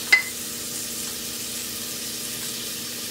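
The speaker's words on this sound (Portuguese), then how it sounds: "aqui para fritar junto com a cebola uma pimenta dedo de moça sem semente picadinha" Chopped seedless dedo-de-moça chili pepper frying with onion in a pan while pork ribs are prepared, a steady soft sizzle after a brief clink at the start, with no talk.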